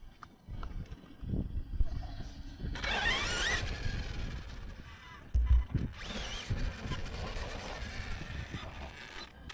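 Slipper clutch on an HPI Savage XL Flux RC car, heard as two bursts of whirring, grinding drivetrain noise with low thumps, close by over a quieter background.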